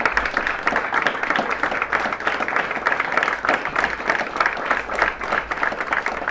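Steady, dense applause from a crowd at an Ohio GOP Senate primary concession speech, directed at Kathy Crawford, holding at an even level throughout with no voices standing out.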